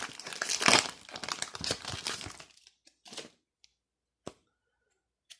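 Crinkling foil wrapper of a Pokemon Rebel Clash booster pack being torn open, with loud, close, dense crackling for about two seconds, then a few sparse crinkles and ticks trailing off into near silence.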